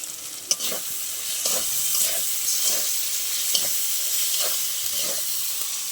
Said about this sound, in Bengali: সব ভালো করে একসাথে মশলার সাথে কষিয়ে নেব